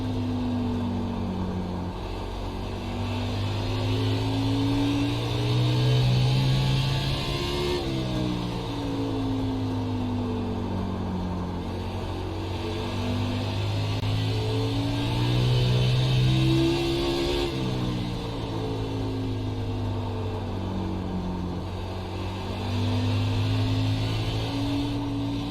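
Race car engine in the iRacing sim at North Wilkesboro, an Xfinity car on a short oval, droning steadily and loudly throughout, its pitch rising and falling in repeated cycles as the car lifts and gets back on the throttle through corners and straights.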